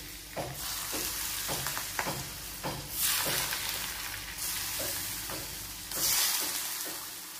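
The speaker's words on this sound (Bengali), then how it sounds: "তেলটা গরম হয়ে গেলে এই তেলটাই আমি এর মধ্যে ঢেলে দেবো, তারপর ভালো করে মিক্স করে নেব" Hot oil is poured into a glass bowl and stirred in at home, giving a sizzling, crackling wash with repeated scraping strokes and two louder hissing bursts, close and fairly steady, with no talking.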